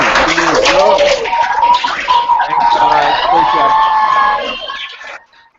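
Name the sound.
audience applause and cheering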